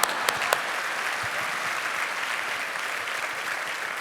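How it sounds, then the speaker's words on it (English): A studio audience applauds steadily for two guests, a dense, even wash of clapping with a few sharp claps standing out at the start, sustained at moderate loudness throughout. "Round of applause, please, for both of them."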